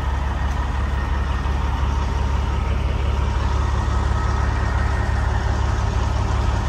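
A 1986 Ford LTL 9000 truck with a Cat B-model engine and 15-speed transmission drones steadily while driving, a constant low, heavy rumble heard from the cab with no break or change.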